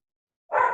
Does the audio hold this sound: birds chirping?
no